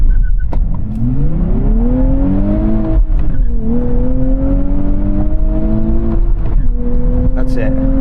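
A car launching hard off the line in a drag race against sports cars, engine roaring loud and close as it climbs through rising pitch, dips at a gear change, then pulls steadily on through another shift.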